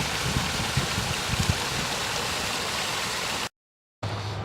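A shallow creek runs steadily over its bed, a broad continuous rushing wash heard close and alone, cut briefly by a moment of silence near the end.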